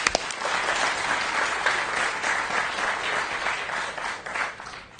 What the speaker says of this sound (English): Let's give a hand clap